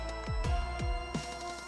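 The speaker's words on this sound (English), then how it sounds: "You hear the organ straight from the get." Unfiltered organ patch in FL Studio Mobile playing steady held tones, with low thumping pitch-dropping hits landing about every half second beneath it, dense and moderately quiet.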